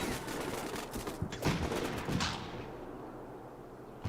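Gunfire crackles in the military video game Combat Mission: Black Sea: scattered sharp reports and short bursts at moderate distance, clustered in the first half, then trailing off into a quieter rumble.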